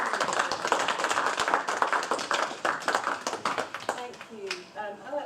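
An audience at a civil rights lecture gives a lecturer a round of applause: dense, fairly soft clapping that thins out toward the end as a voice begins.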